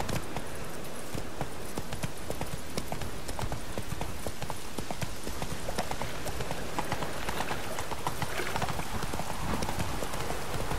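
Hooves clip-clop in a fast, steady rhythm as a horse gallops in The Witcher 3, the beat continuous and close throughout.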